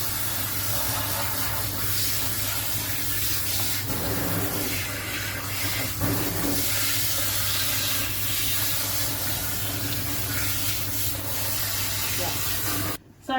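Steady hiss of a water spray rinsing a double-coated Spitz dog, close and continuous, with brief rubbing and sloshing shifts woven through and an abrupt cutoff at the end.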